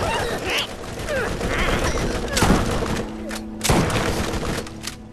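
A shotgun in the Borderlands video game fires again and again while the trigger is held, giving a few heavy, booming blasts spaced over the seconds against busy in-game noise.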